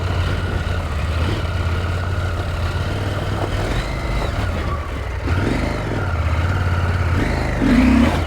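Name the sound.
motorcycle engine revving while popping a wheelie off-road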